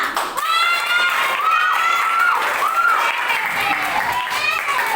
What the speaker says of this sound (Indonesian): Tepuk tangan untuk kelas 6.